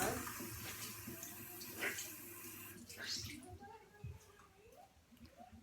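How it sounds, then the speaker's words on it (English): Tap water gushes steadily to wet a beauty blender makeup sponge, then cuts off about halfway through. A quieter, softer sound and a faint voice follow. "I like it better when it's wet, so I'm going to wet mine."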